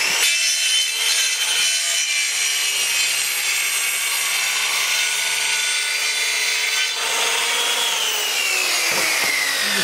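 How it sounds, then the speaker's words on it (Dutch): A hand saw cuts through a wooden plank in steady back-and-forth strokes, close up and continuous, with no talking. "De zaag zetten we tegen het plankje aan."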